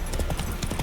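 Roach the horse trots in the video game Witcher 3: Wild Hunt, a quick run of clip-clop hoofbeats in a steady rhythm, close and fairly loud over a muffled background.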